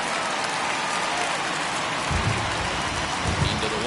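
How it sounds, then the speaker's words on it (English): Steady heavy rain hisses through a baseball video game, MLB The Show 21, with a low rumble of thunder rolling in during the second half. "This isn't an easy sport to play in the rain."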